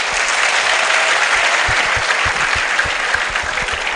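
An audience at a gospel music event applauds loudly and steadily, a close, dense burst of clapping that carries on throughout without talk.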